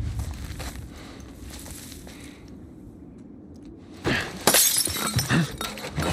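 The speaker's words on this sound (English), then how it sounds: "Must have been the wind knocking over a bottle, shattering it against the wall." Glass bottle shattering against a wall in The Last of Us video game, preceded by quiet ambience and faint steps, then a sudden loud crash with scattered tinkling shards trailing off.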